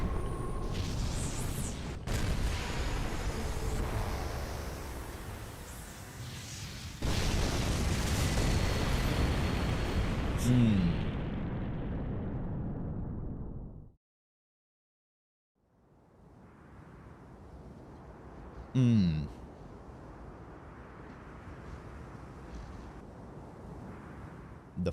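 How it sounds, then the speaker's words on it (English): Fireworks boom and crackle in the Fate/Grand Order video game, a dense rumbling roar with sharp pops. The sound cuts to silence briefly, then the rumble resumes with another bright burst. "The fireworks."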